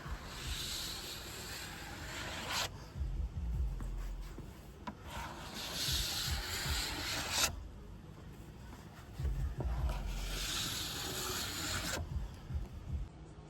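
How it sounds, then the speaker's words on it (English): Long back-and-forth strokes of a plastic scraper pulling excess wax off a snowboard base, tip to tip, in three loud sustained rasping passes separated by brief pauses, close up with no talk. "Once you've removed the bulk of the wax, use the wide edge of your scraper and run"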